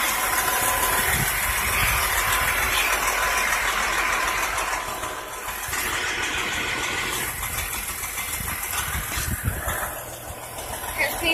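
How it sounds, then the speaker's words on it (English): A fire engine's heavy motor rumbles steadily nearby as it pulls up to a structure fire, settling into a loud idle with some clanking. "Here's engine 632. Pulling up right now."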